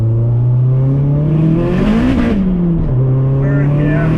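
A modified 552bhp Vauxhall Astra VXR pulls hard in second gear from inside the cabin, its engine note rising loudly and steadily, dipping briefly before climbing again; a voice speaks over it.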